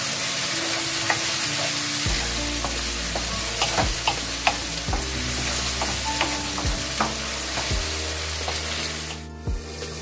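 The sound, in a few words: frying garlic ginger paste in a pan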